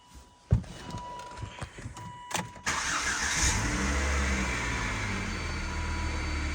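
A rebuilt Volvo S40 T5 cranks with a few sharp clicks, catches and settles into a steady, close idle that continues without pause.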